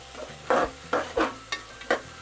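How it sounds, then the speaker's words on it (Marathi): Raw peanuts being stirred in a pan for a spiced pea and potato rice dish: five distinct scraping, rattling sweeps in an irregular rhythm, close and clear over a faint low background, with no talking. "असं आपण हे हलवून घेऊया।"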